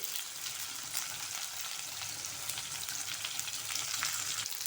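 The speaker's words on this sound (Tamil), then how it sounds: "இப்போ ஒரு வெங்காயத்தை நீல வாகில் சன்னமாக கட் பண்ணியிருக்கேன் அதையும் அதில் சேர்த்துருவோம் இது நல்லா அப்படியே எண்ணெயில் வதங்கி வரட்டும்" Thinly sliced onion and curry leaves fry in hot oil, giving a steady, dense sizzle that continues throughout with no talking.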